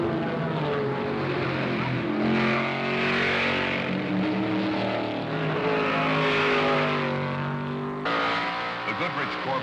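Ferrari and Matra race cars lapping at the 1973 Le Mans 24 Hours, heard as a loud, sustained engine roar that rises and falls in pitch as the cars pass, continuous throughout with no break.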